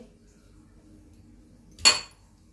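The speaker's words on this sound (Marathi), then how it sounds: "आता हे आपण खलबत्त्यात ठेसणार आहे।" A single sharp clink as ridge gourd is struck in a stone mortar and pestle, one loud bright impact near the end over a quiet background.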